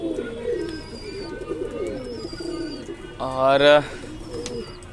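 Desi pigeons coo in a backyard loft, with low warbling calls through most of the stretch and one louder, close, throaty coo near the end, while someone speaks briefly and a few thin chirps sound in the background.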